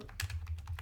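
Short burst of computer keyboard typing while entering a kubectl command, several quick key clicks at close range, no talking.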